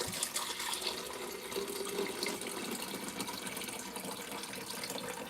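Water runs steadily from a kitchen tap while filling a pot for cooking breakfast, a continuous close, fairly loud splashing gush without pauses or talk.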